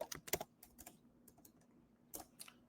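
Quiet typing on a computer keyboard, irregular clusters of soft clicks with short pauses, close and faint, with no speech.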